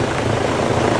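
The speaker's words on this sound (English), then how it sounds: "We got a helicopter landing" A helicopter lands near a busy hiking trail in China, its loud, steady rotor and engine roar filling everything close by without a break.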